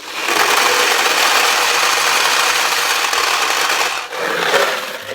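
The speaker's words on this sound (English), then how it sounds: "So let me load the balls in" Steel balls pour into a Sanyo Comet II pachinko machine as a dense, steady metallic rattle and clatter lasting several seconds, with a brief dip near the end before the cascade resumes.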